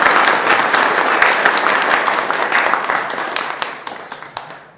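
An audience claps warmly to welcome the president at an AI business meeting in Ulsan, a loud burst of many hands that gradually thins and fades to scattered claps.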